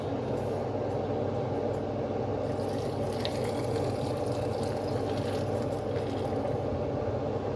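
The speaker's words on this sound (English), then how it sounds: "it gets messy trying to pour it in these jars" Hot pickle brine poured into jars, a steady close liquid rush and gurgle lasting several seconds at low volume.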